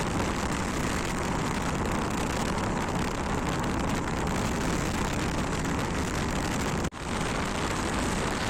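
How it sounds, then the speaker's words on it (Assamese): Sport bike engine while riding, a loud, continuous roar mixed with heavy wind rush across the whole stretch, steady throughout with one brief dip near the end. "এনেকুৱা সময়ত স্পৰ্ট বাইক এনেকা চলাব লাগে"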